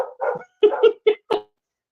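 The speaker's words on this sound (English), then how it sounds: "we will get my dog to stop barking" A dog barks four times in quick succession, loud and close, the sharp yaps spaced unevenly with brief silences between and no talking.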